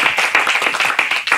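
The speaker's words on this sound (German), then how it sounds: "Applaus für die Araber" Short burst of clapping in a podcast studio, a few people applauding loudly and close for about a second and a half with no talk over it.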